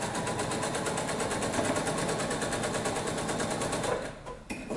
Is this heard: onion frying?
no